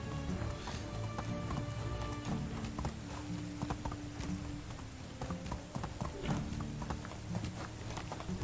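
A horse gallops across the hills in the Medieval Dynasty video game, a rapid, steady clip-clop of hooves, close and clear, over a low droning game background with faint voice.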